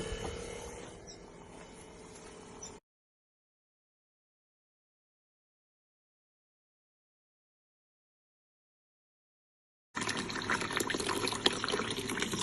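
A 12V pump draws river water through a filter at a free camping spot beside a caravan. Gushing, rushing water is heard, then cuts to silence for several seconds before the flow returns, loud and close.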